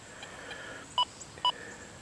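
A Deus 2 metal detector gives two short, clean beeps about half a second apart over a faint hiss, signalling a shallow clad dime masked among nails in the ground.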